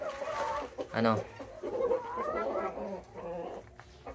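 Rooster and hens, including a Black Australorp and Dekalb Brown hens, clucking and calling inside a coop on a small farm, close and intermittent, with someone speaking over them.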